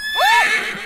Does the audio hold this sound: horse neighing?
yes